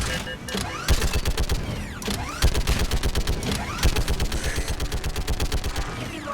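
Rapid turret gunfire in Mass Effect 3 against incoming geth, bursts of fast rhythmic shots with loud heavy reports between them, close and continuous.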